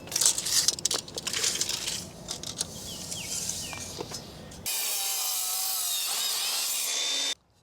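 A wooden 4x4 post is sawn through in two lengths, with close, rough rasping and crunching strokes from the blade cutting through the wood. A steady noise follows after the cut ends.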